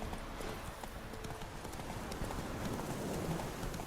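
Horse hooves clip-clop steadily as Geralt rides on horseback in The Witcher, a continuous rhythmic patter of hoofbeats with a faint outdoor ambience and no talking.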